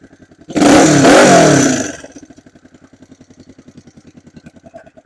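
1972 Honda CB450 motorcycle engine, close by, blipped into a loud, brief rev burst lasting over a second, then dropping back to a steady, lumpy idle putter with an even rhythmic pulse.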